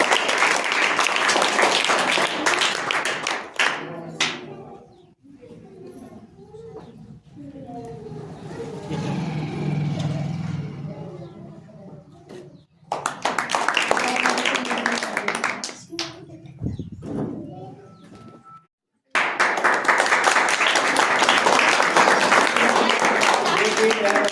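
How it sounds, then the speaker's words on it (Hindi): Enthusiastic applause and clapping from a crowd at a sewing centre for the winner of a rakhi-making competition, several loud bursts of clapping broken up by talk between them. "कंपटीशन में जो प्रथम स्थान प्राप्त किया तनु, जोरदार ताली इसके लिए।"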